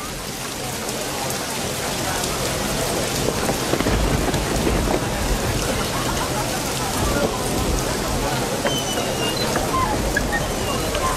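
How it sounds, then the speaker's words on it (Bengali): Steady, heavy rain falls without a break, a dense and even wash of drops that fills the whole stretch at a constant level. "এর জন্যই তো রহমতের বৃষ্টি হচ্ছে।"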